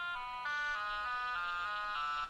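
Tonal chime-like sound effect played through a phone speaker from a LibGDX demo app, a series of sustained stepped tones with shifting pitch, moderately loud and alone.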